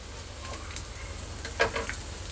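Shredded cabbage tossed into a hot frying pan with green chilli for bread Manchurian, giving a soft steady sizzle with a few light stirring scrapes, close and fairly quiet, no talking.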